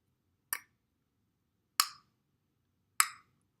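Three sharp tongue clicks pop out of near silence at even intervals, each crisp and brief.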